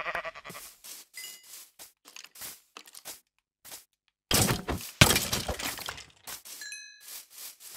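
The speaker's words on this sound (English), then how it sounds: "How the fuck is there a sheep on the roof?" In the Minecraft video game, a sheep bleats a few times among clicky block-breaking and crunching effects, followed by a loud shattering burst, with brief gaps of silence between the sounds.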